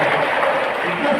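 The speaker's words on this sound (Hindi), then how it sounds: "तालियां बजा दो भगवान के लिए।" Steady applause for the deity Shri Krishna at a temple in Noida City Centre, a dense wash of many hands clapping throughout the short burst with no pauses.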